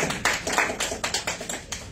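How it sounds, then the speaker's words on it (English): An audience at a livestreamed jazz jam session applauds the band, a dense, steady patter of many hands clapping close by without talk. "these guys deserve a big round of applause for that"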